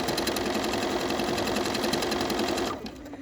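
A sewing machine runs steadily stitching a decorative stitch along the edge of fabric lined up with the presser foot, a continuous fast whirring hum that stops abruptly near the end.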